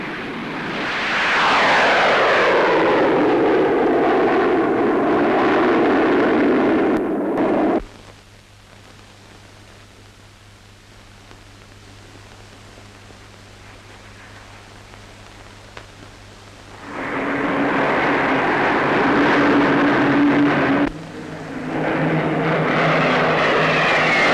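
A Meteor fighter powered by two Avon jet engines passes at an airshow, its loud roar sweeping downward in pitch as it flies by, dropping to a quieter rumble before another loud engine roar returns.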